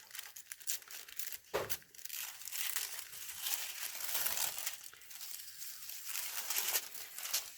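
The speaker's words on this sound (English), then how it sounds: "I'd much rather rip a little bit of the tissue paper." Tissue paper being torn and crinkled while a coloring book is unwrapped: close, continuous rustling and ripping with a few sharper tears, no voices.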